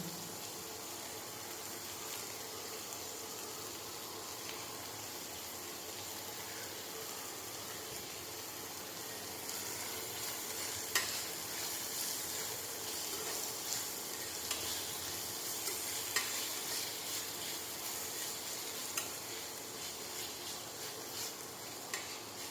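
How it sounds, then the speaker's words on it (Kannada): Salted tomato masala for hotel-style egg fry fries in a pan with a steady, close sizzling hiss. Faint stirring scrapes sound now and then, and the sizzle grows slightly louder partway through. "ಚೆನ್ನಾಗಿ ಹೀಗೆ ಫ್ರೈ ಮಾಡಬೇಕು"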